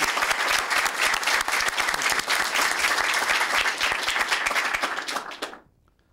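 Sustained, loud applause from a crowd at an Attorney General swearing-in ceremony, thick and continuous for several seconds before fading out quickly at the end.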